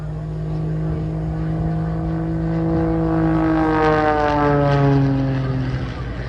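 A small biplane engine roars at the Blackpool airshow, a loud propeller drone whose pitch slides downward as the aircraft passes, swelling and then easing slightly, with no voices heard.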